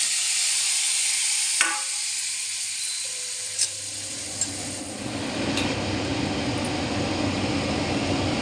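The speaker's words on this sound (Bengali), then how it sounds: "পনিরগুলো দিয়ে দিচ্ছি।" Paneer pieces drop into hot butter and start to sizzle, a bright steady hiss that builds and holds close up, with a few small clicks and spatters on top.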